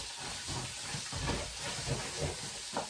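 Food browns and sizzles in a hot pan, a continuous hiss with soft bursts of crackle and a few louder pops, close and with no talk over it.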